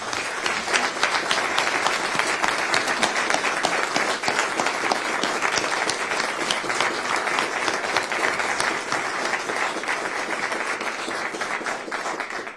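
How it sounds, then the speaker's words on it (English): A standing audience at a higher-education bill signing event claps in a sustained round of applause, a thick continuous patter of many hands at steady volume throughout. "give Karen Peterson and Senator Milner a round of applause and thank them"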